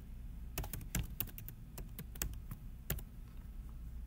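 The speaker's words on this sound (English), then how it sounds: "Type in a name for it and then save." Fingers tap out a file name on a computer keyboard in a quick, uneven run of close, crisp clicks with short gaps, no voices present.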